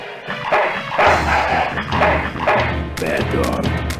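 A dog barks in the Full Throttle adventure game, giving several loud, close, repeated barks and yips in a quick rhythm.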